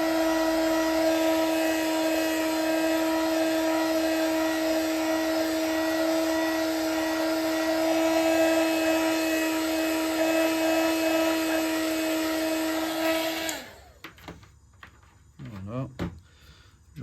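Heat gun warming the cracked back glass of an iPhone 16 during a repair, a loud steady whirring blower hum that cuts off abruptly near the end, followed by quiet handling noises.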